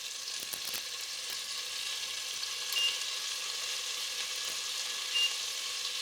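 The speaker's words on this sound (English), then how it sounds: "You know the pan's hot enough when it starts sizzling like that." Steady, bright crackling sizzle of garlic frying in a hot pan, continuous and close, with a few faint higher squeaks.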